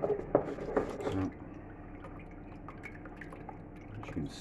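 Starchy water rinsed from plain flour dough pours and splashes into a separate container, a liquid burst near the start that fades to a quieter trickle, with a brief spoken word.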